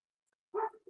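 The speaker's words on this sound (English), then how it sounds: "Dogs are barking." A single short dog bark sounds faintly from a distance, brief and alone against silence.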